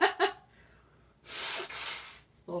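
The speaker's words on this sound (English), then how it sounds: "Let me go ahead and blow my nose." Someone blows their nose once, close up: a single forceful, breathy honk lasting about a second, set between brief bits of a voice.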